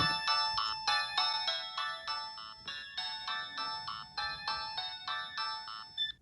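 An old Samsung mobile phone plays a bright, chiming electronic ringtone that repeats its looping melody steadily for several seconds, loud and close, with no voices.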